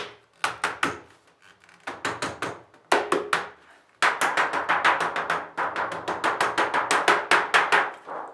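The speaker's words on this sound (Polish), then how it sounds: "można to ładnie, ładnie jeszcze młoteczkiem dopieścić." Small hammer tapping on a wooden beehive roof in quick bursts of sharp knocks, close and fairly loud, with short pauses between runs of taps.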